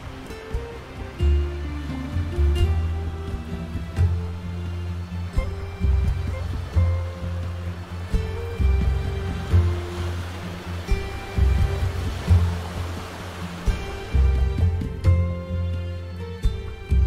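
Ocean waves wash onto a Balinese seashore on the Indian Ocean, a steady, full surf roar with rolling low swells that rise and fall over a sustained tonal backdrop.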